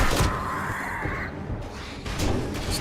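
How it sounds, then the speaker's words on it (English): Crows cawing in a video game: a few harsh caws ring out near the start and again near the end over a dense, noisy game soundscape, moderately loud and close. "Stupid birds."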